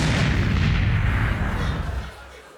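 A landmine explosion sound effect in a cabaret sketch: a loud, booming blast with a heavy rumbling tail that fades out after about two seconds.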